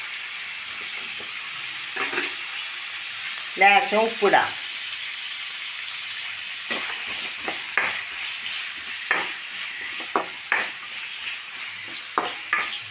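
Onion and carrot frying in coconut oil while being stirred, a constant soft sizzle broken by sharp scraping strokes of a spoon against the pan; someone speaks briefly in between.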